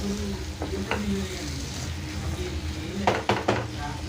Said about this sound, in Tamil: அப்பப்போ கிண்டி விடுங்க அப்போ தான் நல்லா அடி பிடிக்காமல் ஃப்ரை ஆகி வரும்